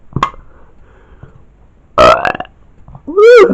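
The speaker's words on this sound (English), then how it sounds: "Was that you two burping again?" Loud, deep burps in a cartoon burping contest, a short one first, then two long gurgling belches with quiet gaps between.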